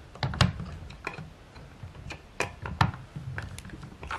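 Screws are tightened on a Spinolution King Bee spinning wheel, giving a close series of sharp, irregular clicks and small mechanical ticks with brief quiet gaps between them.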